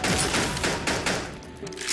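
Rapid gunfire from a video game shootout, a dense rattling volley of shots that runs the whole time, loud and close.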